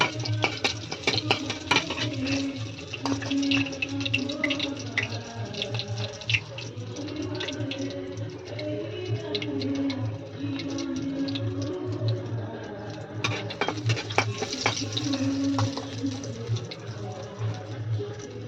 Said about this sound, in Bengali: তেল গরম হয়ে গেছে, আমি এর মধ্যে দিয়ে দেবো শুকনো লঙ্কা। লঙ্কাটাকে একটু ভাজবো।